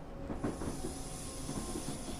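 Train braking into a station in Train Simulator 2014, heard as rumbling rail noise with a steady high brake squeal and hiss, close and continuous with no talk.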